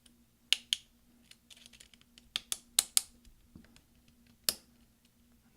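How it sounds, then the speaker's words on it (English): The delete key of a 13-inch mid-2010 MacBook Pro pressed down so its clips catch, giving several quiet, sharp plastic snaps and clicks scattered irregularly, close up with no talking. "we're going to press down to get all the clips underneath this delete key to catch"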